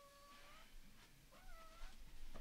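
A pet cat meows several times in short, rising and falling calls, close and fairly quiet against a low background hum, with no talk.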